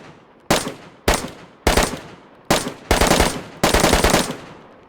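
Bursts of full-auto rifle fire from an M4 reskinned as an M16 in the DayZ Expansion mod, five loud, sharp volleys with short pauses between them, each a rapid stream of shots with a slight echo tail.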